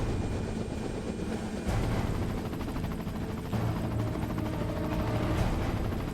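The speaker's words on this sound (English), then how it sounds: "The helicopter takes care of the whole fight." Helicopter in the Resident Evil 4 video game, a loud, continuous rotor roar and rumble with a couple of abrupt surges in intensity, no talking over it.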